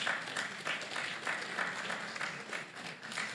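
Audience applause at a student meet-up with animation professionals, a steady wash of many hands clapping that carries evenly through the moment without speech over it.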